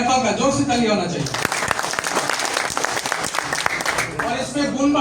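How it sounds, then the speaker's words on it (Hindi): An audience at a DXN program in Riyadh breaks into loud, dense clapping that swells and fades over several seconds, with a voice speaking before and after the applause. "जोर से ताली होना चाहिए"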